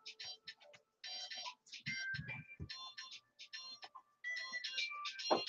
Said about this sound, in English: let me answer the phone